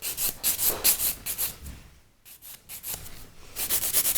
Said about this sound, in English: I'm working with the 150 grit on the extension, and on the natural nail just 180 grit.